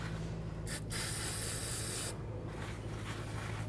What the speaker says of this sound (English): spray some brake parts cleaner on there.